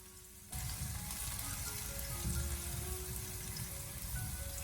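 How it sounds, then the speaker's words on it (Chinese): Minced garlic and chili drop into hot oil in a wok over low heat, setting off a sudden steady sizzle that continues close and even, with faint stirring underneath. "下切好的蒜末还有小米辣，开小火给它翻炒一下，先把小料炒香"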